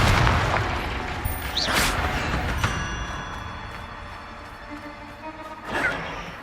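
A Confringo blasting spell goes off in the video game Hogwarts Legacy, a loud booming burst at the start with whooshing magical bursts trailing after it and a softer pop near the end.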